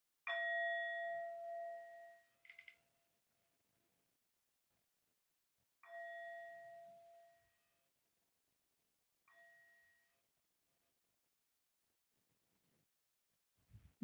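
A bell rung three times at spaced intervals, each a clear ringing strike with harmonic overtones decaying over a second or two, in an otherwise quiet room.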